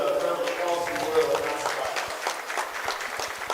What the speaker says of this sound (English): Let's give these guys a big round of applause as well.